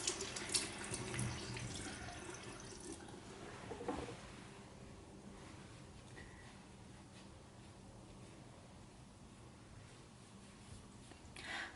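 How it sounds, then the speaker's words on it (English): Warm tap water runs into a bathroom sink for rinsing the face during a skincare routine, a soft, steady splashing stream that is quieter after a brief louder start. "So now I'm just going to rinse with some warm water."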